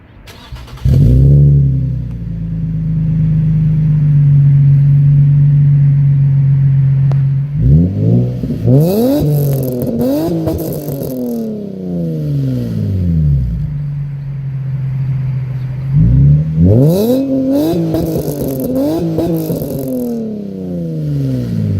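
A truck engine, talked about alongside an Infiniti G35, starts up and settles into a steady, loud idle, then revs sharply in two bursts of rising and falling pitch with an idle stretch between them.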